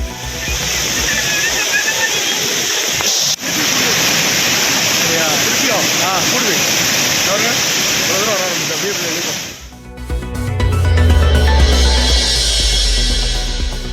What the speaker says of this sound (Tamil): கனமழையால் பழைய குற்றாலம் அருவியில் கடும் வெள்ளப்பெருக்கு.